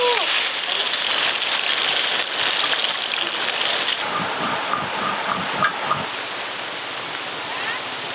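Rain falls steadily in a village during outdoor cooking, a dense continuous hiss of drops on surfaces throughout, with people talking underneath.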